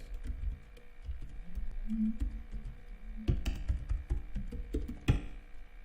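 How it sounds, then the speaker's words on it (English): Typing on a computer keyboard, with sparse individual key taps and short bursts of clicks, fairly close and moderately loud over a quiet room hum, ending with a sharper strike. "Backspace from your keyboard and write your address."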